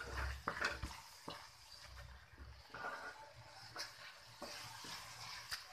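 A spoon scrapes and stirs a thick grated-carrot barfi mixture in a hot kadhai, with soft sizzling and irregular scraping strokes close by and no talk.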